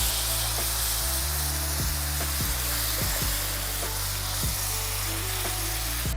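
Broth goes into a hot pot of one-pot chicken and yellow rice, giving a loud, steady hiss of sizzling with a run of regular spoon scrapes and knocks under it.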